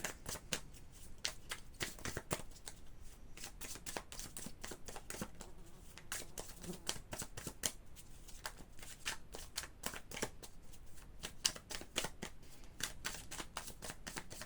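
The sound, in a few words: shuffling tarot cards, Light Seers deck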